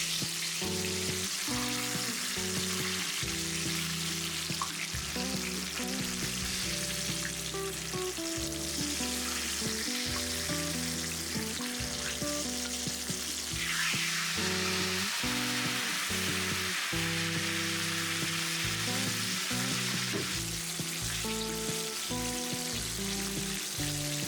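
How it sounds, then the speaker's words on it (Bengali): Whole eggplants fry in hot oil in a pan, giving a steady, crackling sizzle that runs throughout under background music with a clear melody and beat. "ঢাকনা খুলে বেগুনগুলোকে 2 পাশে নেড়ে আরও কিছুক্ষণ জাল করে নিচ্ছি"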